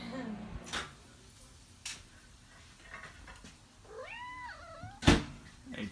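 A cat on top of a refrigerator gives a couple of short, rising-then-falling meows near the end, close and fairly clear, with faint thumps and household noise earlier in the room.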